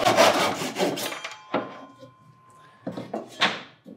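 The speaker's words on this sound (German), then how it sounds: "würde dann die Säge in diese Führung einsetzen und könnte dann die Fußleiste zuschneiden" A hand saw in a mitre guide rasps through a wooden skirting board close up, first a quick run of back-and-forth strokes, then a few scattered single strokes separated by pauses.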